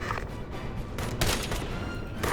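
Gunfire in the tactical shooter game Ghost Recon Advanced Warfighter 2: a dense, sustained burst of loud shots and rattling impacts with a sharper crack near the middle, steady in level across the clip.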